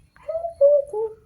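Pigeons of the red Sirazi and Lahori breeds give a close, clear run of soft throaty coos in three swelling phrases, with no voices.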